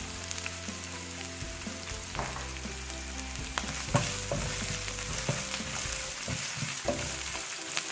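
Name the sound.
sautéing vegetables with fennel seeds in a pan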